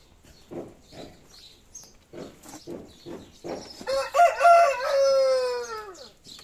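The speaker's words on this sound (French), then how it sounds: "Il me fait un commentaire, le coq." A garden rooster crows once loudly and close by, a long rising then falling call near the end, after a run of short clucks and calls.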